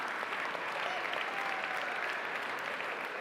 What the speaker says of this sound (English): One more round of applause for all our winners